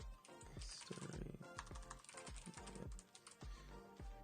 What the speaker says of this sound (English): I'm typing on screen the exact questions that I have on the questionnaire